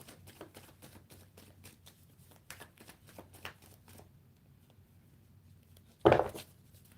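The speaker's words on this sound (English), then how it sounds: "One more shuffle." A deck of tarot cards is shuffled in a run of soft, quick riffling clicks, ending in a louder, brief burst of cards snapping together near the end.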